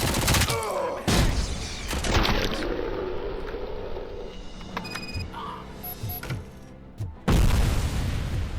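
Gunfire in the video game Robocop: Rogue City, loud bursts and booming shots at the start and end with quieter scattered impacts between; a voice talks briefly.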